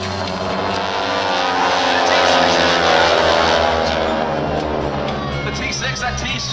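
A T-6 trainer aircraft at the Ocean City, New Jersey airshow produces a loud, steady propeller-engine drone that swells and then eases slightly, with an announcer's voice running over it.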